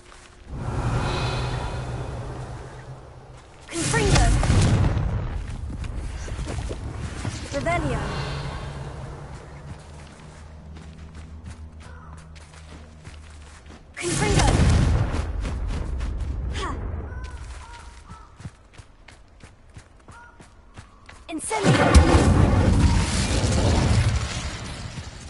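Confringo blasting-spell explosions in Hogwarts Legacy sound as three heavy booming bursts spread across the clip, each a loud rumbling blast that fades slowly, with quieter game sounds and a spoken voice between them.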